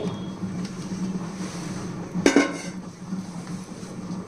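A metal pot knocks and scrapes against another vessel once while jaggery syrup is strained, a short clatter over quiet background hum.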